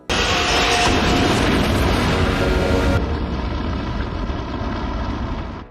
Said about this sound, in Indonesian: Wax telah menanam bom hingga ledakan dahsyat pun langsung menghancurkannya